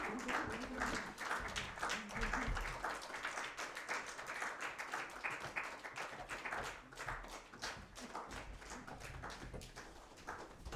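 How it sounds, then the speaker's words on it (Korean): Continuous clapping from a church congregation during Sunday worship, a busy, overlapping wash of hands that carries on without pause, with some voices mixed underneath. "박수를 끊임없이 쳐야 돼."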